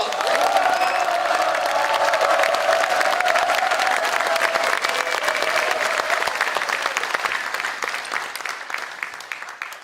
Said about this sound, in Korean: 여러분의 위대한 결단에 더욱 큰 박수 한번 보내드립시다